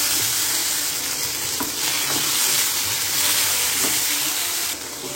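Onions, garlic, ginger and tomatoes fry in a pan with a dense, loud sizzle that goes on without a break. A few faint stirring clicks sound underneath, and the frying eases off slightly at the end.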